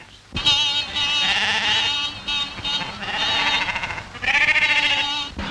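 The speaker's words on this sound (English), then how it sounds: "Sheep all over the road, damn silly things." Several sheep, a whole flock on a road, bleat loudly and close, overlapping wavering cries in three long bursts, with no talking.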